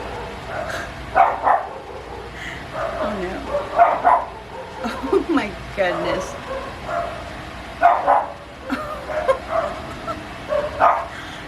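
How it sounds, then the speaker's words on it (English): Dogs bark and yip excitedly in bursts from downstairs, with someone talking and exclaiming over them. "The dogs are going mad downstairs."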